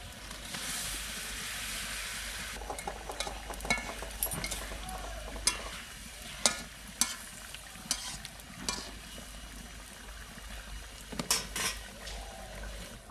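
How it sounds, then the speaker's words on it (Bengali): Fried silver carp pieces going into a long-simmered curry gravy, a low bubbling sizzle with sharp clinks and scrapes of a utensil against the pan, fairly quiet. "ঝোলটা অনেকক্ষণ ফুটিয়ে নিয়েছি, এবার আমি ভেজে রাখা মাছগুলো দিয়ে দিচ্ছি"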